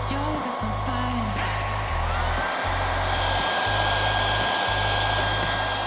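A loud hair dryer runs continuously nearby, drying gold leaf on a bowl, its pitch shifting every so often as the airflow is redirected.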